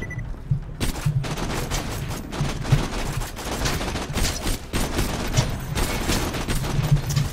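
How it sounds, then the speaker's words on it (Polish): Enemies firing in Borderlands 2, a dense, continuous barrage of loud gunshots and rapid bursts overlapping for the whole stretch, with no pauses and no voices. "Strzelają we wszystkie strony."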